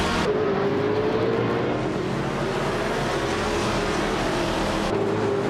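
Racing engine of a 2004 Chevrolet Corvette C5 roars loud and steady at close range, a sustained high-revving drone that swells slightly near the end, with no talk over it.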